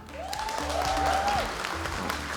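Brief applause from a comedy show audience, a soft wash of clapping with a gliding tone and low hum running under it.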